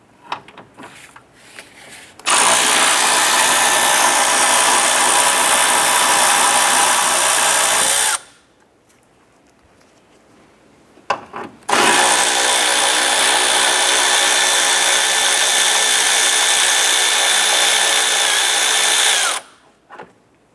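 Power drill or impact tool loosening 10mm radiator bolts on a 1993–1997 Ford Ranger: two sustained high-pitched whirring bursts, the first about six seconds and the second about eight, with a short quiet gap between, close and loud.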